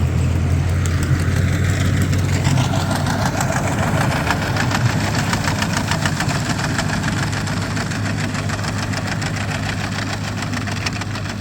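A tractor engine idles steadily and close by, a low rumbling drone with a faint knock, running alone without any talk for the whole stretch.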